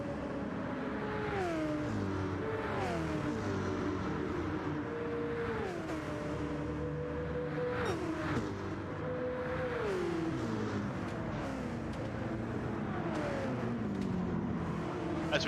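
V8 Supercars race cars lap the Deep Forest circuit in a racing game, engines rising and falling through repeated upshifts and revving, with several cars whirring past at moderate volume.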